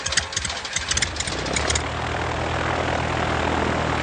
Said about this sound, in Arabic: أعتذر عن الطائرة غير الأنيقة يا جين، لعلك تشعرين بالراحة